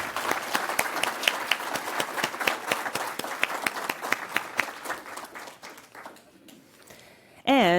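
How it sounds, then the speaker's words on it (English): Audience applause at an awards ceremony, many hands clapping in a dense, steady burst that gradually thins out and fades before a sudden tone at the end. "let's give a huge round of applause to Tahiri Paul"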